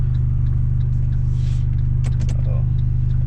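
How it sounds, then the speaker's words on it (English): A Fiat Abarth idles with a loud, deep exhaust rumble that stays steady throughout, with a few sharp clicks and brief noises over it. "Just the noise that these cars make is crazy."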